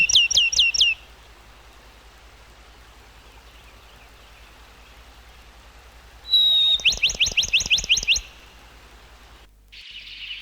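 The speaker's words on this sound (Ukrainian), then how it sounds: "Це горобець." Bursts of bright, repeated chirping from a house sparrow, one short series at the start and a longer one later, with quiet gaps between.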